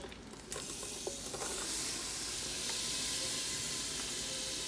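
Onions hit butter and olive oil in an Instant Pot, setting off a loud, broad sizzle and hiss that swells after a brief quieter start and holds steady.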